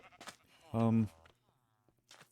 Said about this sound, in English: Dolly the pink sheep that we caught way over in that direction at the first village we found